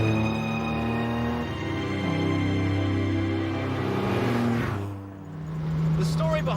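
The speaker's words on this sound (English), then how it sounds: "The engine's beautiful. It's got this fantastic burble." A classic car of the early James Bond Aston Martin era burbles steadily up close, its low engine note rising and easing before a brief dip and swell near the end.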